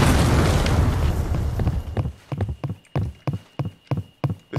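A grenade blows up in the Roblox game Proving Ground, North Carolina, a loud close blast with a long rumbling tail, then a run of evenly spaced thuds afterwards.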